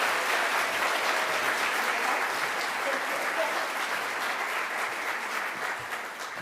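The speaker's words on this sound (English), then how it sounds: "let's give a warm round of applause for Luke from Savannah" A morning talk audience at a CreativeMornings event in New York gives a warm, sustained round of applause, dense and even, fading slightly at the end.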